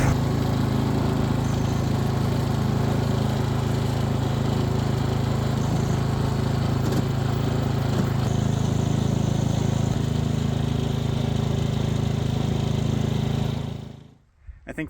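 Ford Foxbody Mustang driving in low gear, its engine giving a steady, loud, rough drone that holds constant for most of the stretch before cutting off abruptly near the end.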